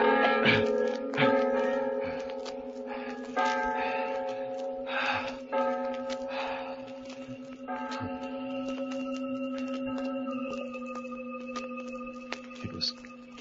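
Church bells ring steadily in an audio drama scene, a sustained tolling tone running under gasps and strained breathing, continuing for most of the passage before fading out.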